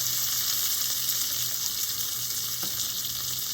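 Asafoetida and cumin, with curry leaves, sizzle in hot oil for a chutney tempering, a steady close hiss and crackle that holds evenly throughout.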